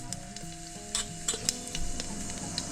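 Cumin seeds sizzle in hot oil for a bajra khichda tempering, a continuous close frying hiss broken by several bright crackles and light stirring clinks, with no talking.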